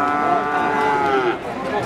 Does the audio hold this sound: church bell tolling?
no